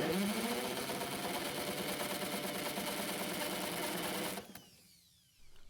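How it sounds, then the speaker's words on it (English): A drill spins over a Honda lawn mower engine for a compression test with the compression release overridden, making a loud, rapid, steady mechanical whirring close by that cuts off abruptly near the end. "I'm going to override the compression release by using a drill to turn the engine over"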